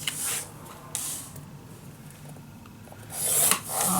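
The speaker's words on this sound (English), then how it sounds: "Now we are going to score on each side 1/2 inch." Bone folder or stylus scoring paper for a handmade Alice in Wonderland mini album, three short scraping rasps along a ruler at half-inch lines, close and moderately loud with quiet pauses between strokes.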